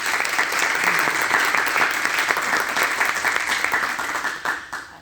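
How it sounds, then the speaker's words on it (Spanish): Audience at a workshop session of a communications course claps steadily, a dense even wash of applause that fades out at the end. "con un aplauso, así queda grabado."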